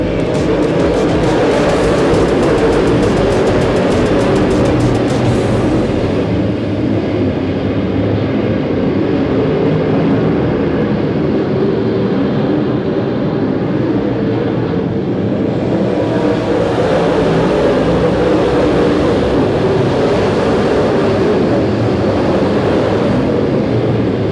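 A field of race cars accelerating together at Winston Speedway as the green flag drops, giving a loud, continuous, roaring engine drone that swells and fades slightly as the pack passes, with no voices.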